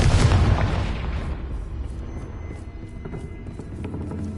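A Confringo fire-blast spell from the video game Hogwarts Legacy bursts with a heavy low boom at the start, then leaves a lingering rumble dotted with faint crackles and small pops.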